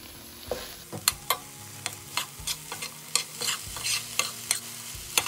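Potatoes and carrots in a pot are stirred with a utensil, giving repeated scraping clicks against the pot over a soft sizzle from the heat, close up and without speech.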